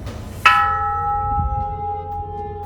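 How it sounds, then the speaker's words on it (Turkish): A single temple bell in Thailand is struck once and rings out with a clear, sustained metallic tone that slowly fades, heard close and alone. "Şurada zil var."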